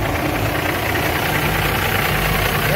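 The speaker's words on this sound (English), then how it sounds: "it's got a Cummins ISX engine on it" Volvo truck with a Cummins ISX diesel engine idles steadily, a loud continuous rumble with a faint knocking texture and vibration throughout, close by and without speech.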